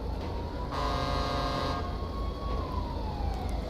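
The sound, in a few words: emergency vehicle siren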